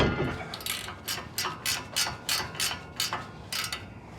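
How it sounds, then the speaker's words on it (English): An 18mm socket on a ratchet loosening a ball joint nut on a Ford, a steady run of about nine crisp clicking strokes, close and clear with no talking. "let's take our 18mm socket. We're going to remove this nut."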